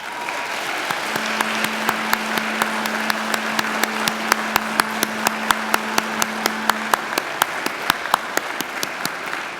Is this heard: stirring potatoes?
no